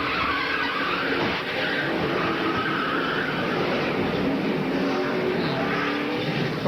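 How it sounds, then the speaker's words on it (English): NASCAR race cars at the 2000 goracing.com 500 roar around the track in a steady, loud, continuous engine drone with no break. No voices are heard over it. "That was down in turn 4 that David Green spun around in the McDonald's Ford"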